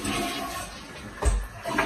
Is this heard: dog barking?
no